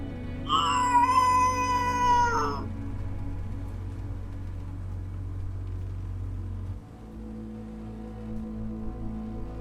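A single loud, drawn-out black cat meow up close, followed by a steady low engine-like rumble that continues alone.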